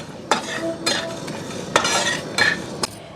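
Chicken frying in a pan for chicken pickle, a sizzling bed under several sharp scraping stirs of a utensil against the pan, close and fairly loud.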